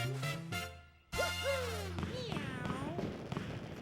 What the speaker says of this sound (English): So, more fireworks be coming.